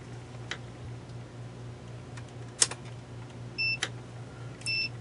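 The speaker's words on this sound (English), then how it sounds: "we have the meter set for continuity for ohms. And I'll put the beeper on." A multimeter continuity beeper sounds two short, clear beeps about a second apart, with scattered faint clicks and a low steady hum in a quiet room.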